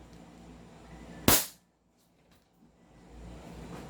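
A single sharp crack from a JWC Combat Master 1911-style airsoft pistol fired once at close range, followed by near silence and faint background noise.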